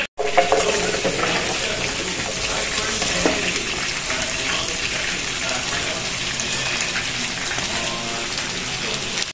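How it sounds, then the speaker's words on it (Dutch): Pumpkin seasoned with a little masala cooks in a pan over a fire, giving a steady, even sizzle and crackle of frying that runs without a break from start to finish. "En nu ga ik pompoen koken."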